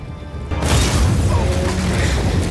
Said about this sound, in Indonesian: terjadilah sebuah ledakan